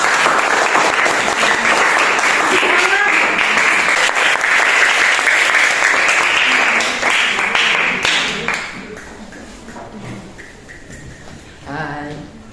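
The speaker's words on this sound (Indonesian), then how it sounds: "Tepuk tangan dulu, tepuk tangan, clap hands." A classroom of students claps hands together in loud, sustained applause for a group, then the clapping thins out and tapers off while a few voices speak.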